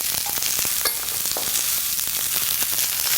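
Zucchini, summer squash, orange pepper and onion sizzle steadily in a hot pan, a continuous close frying hiss with faint crackles throughout and no talking.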